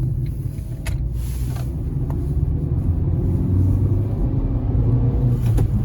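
Ford Ka small hatchback accelerating gently on the road, a steady low engine and road rumble from inside the cabin that swells slightly over about six seconds, with no voices.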